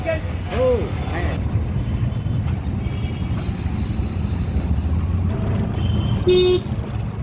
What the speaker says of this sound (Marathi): आपण आता या रिक्षामध्ये बसलो आहे